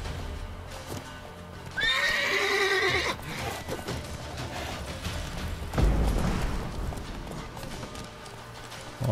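A horse lets out a loud whinny in The Witcher 3 game, followed by hooves clopping and scattered clanks and thuds of mounted combat.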